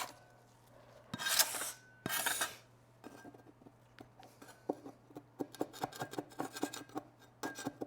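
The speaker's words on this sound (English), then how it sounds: "I wish I could make this scraper do what I want." A hand scraper works veneer off an old table: two long rasping strokes, then a run of short, quick scratchy scrapes and ticks, close and fairly quiet over a low hum.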